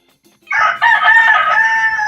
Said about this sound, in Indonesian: Oh itu suara kenceng amat tuh ayam.